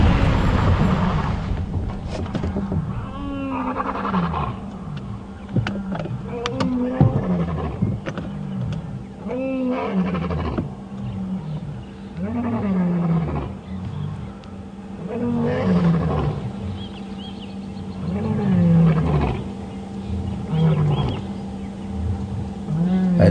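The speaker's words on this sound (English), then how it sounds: "At least 3 lion talking right now." Several lions roar in turn in the early morning on a live safari drive, deep rising-and-falling calls repeating through the whole stretch, loud and fairly close, with an engine or low rumble underneath.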